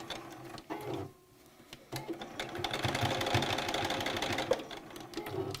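A sewing machine back stitches a fabric face mask, a close, steady mechanical whir with a brief pause before it resumes and runs on evenly.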